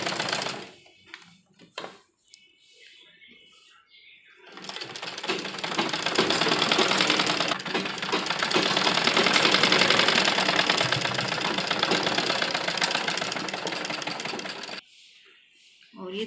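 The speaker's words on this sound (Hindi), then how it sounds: "इसको सिलाई लगाएंगे इस पर।" A sewing machine stitches a strip onto an embroidered blouse. It starts after a few quiet seconds, then runs as a steady loud whir for about ten seconds and stops near the end.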